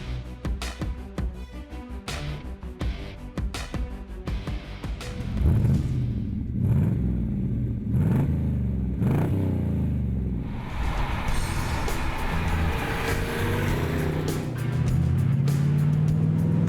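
A classic Intermeccanica Italia Spyder roadster with an American V8 rumbles deep and close, with repeated revving swells midway before settling into a steady throaty drone.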